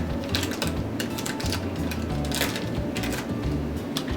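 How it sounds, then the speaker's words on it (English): A pastry cutter chops and presses through cold butter in a bowl, giving steady, dense scraping and clicking with a ratcheting, mechanical texture that continues unbroken throughout, with no voices. "use a pastry cutter to break up your butter"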